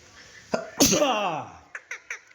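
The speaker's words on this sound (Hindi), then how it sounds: "छींक आई मेरे को" A single sharp human sneeze bursts out close and loud, preceded by a brief click and followed by a few short chirpy squeaks, likely from a pet parrot being trained to talk.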